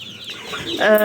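Young ducks and a goose kept in a cramped box, giving short close peeping and clucking calls that rise into a louder cry at the end.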